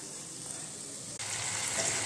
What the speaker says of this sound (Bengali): আমি একটু গরম জল দেব